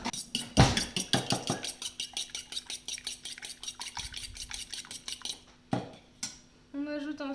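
Quick, steady clinks of a fork whisking an egg in a bowl tick along in a fast, even rhythm for several seconds before stopping. A brief voice follows.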